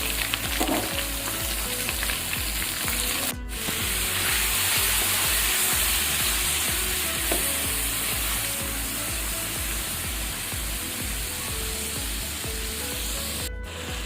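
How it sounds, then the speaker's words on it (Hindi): Minced meat fries with cinnamon stick, black peppercorns and cumin seeds for keema gobi, giving a steady dense sizzle and hiss that runs the whole time, with a few faint stirring clicks. "कीमा आप देख सकते हैं बहुत ही अच्छे से हमारा भुन गया है"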